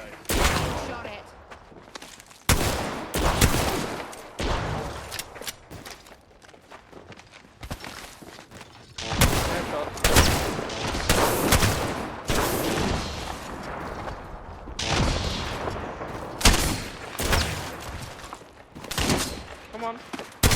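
Repeated bursts of gunfire and footsteps in the video game Apex Legends, dense and loud throughout, with players talking over the action.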